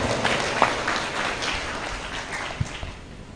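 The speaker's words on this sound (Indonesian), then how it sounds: "Tepuk tangan untuk Ahmad Muhibbullah." An audience at an Islamic boarding school's open exam applauds a student with a soft, even wash of clapping that stays fairly steady throughout.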